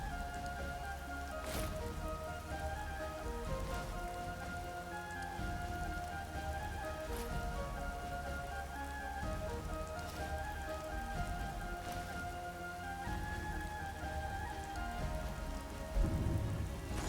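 Steady, soft rain patters continuously in Skyrim at a gentle, even level, with a faint tonal background and an occasional low rumble.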